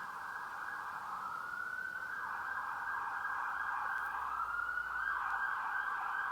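An emergency siren wails continuously, its tone sweeping slowly up and down, steady and moderately loud with no talking.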